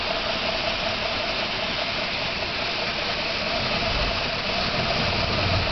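A 1955 Ford Vanette P-350 engine idling with a steady, continuous rumbling drone and a faint knocking texture, running on its own without talk.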